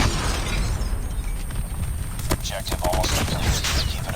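Rapid bursts of sharp blasts and crackling detonations in Call of Duty Mobile, dense and loud, with a person talking over them in Thai.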